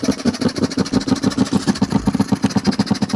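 A car engine idles close by with a fast, even pulsing throb, a loud steady mechanical beat continuing without pause and no voices.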